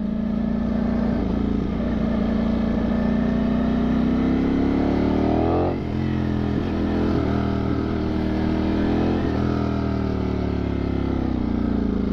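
A Ducati Streetfighter V4S motorcycle's engine drones steadily while riding, a loud continuous tone with a brief dip and gear shift midway and small pitch wobbles as the throttle varies.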